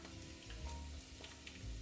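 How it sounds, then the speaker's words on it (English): Entrecote steak sizzling in olive oil in a hot pan, a steady close crackle with soft popping that carries on without a break, no voices over it. "That's a nice little sizzle."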